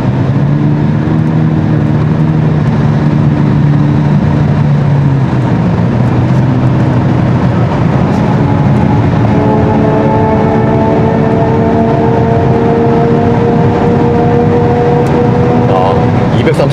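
A Kia EV6 GT's synthetic, engine-like hum drones steadily, then its layered tones rise in pitch as the car speeds up on a proving ground track; faint talking sits underneath.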